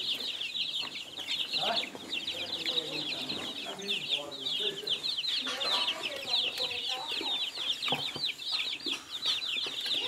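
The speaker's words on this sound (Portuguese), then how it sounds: "Esse piadinho é gostoso de ouvir" Newly hatched chicks peep in a dense, continuous high chorus, close by and steady throughout, with soft lower clucking from hens underneath.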